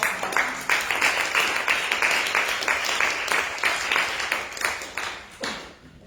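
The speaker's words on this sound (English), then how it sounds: "I'm sure we all join and clap our hands." An audience at a G100 meeting in Stockholm claps after a panel of speakers, a full, even burst of many hands that holds steady and then tapers off near the end.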